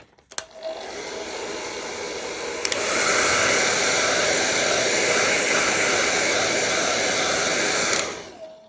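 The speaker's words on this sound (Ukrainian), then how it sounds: "Так, і ще зараз швиденько в мене схований фен. І ми швиденько це все підсушимо." A hair dryer whirs loudly and steadily for several seconds drying watercolor paint, clicking on at the start and cutting off near the end.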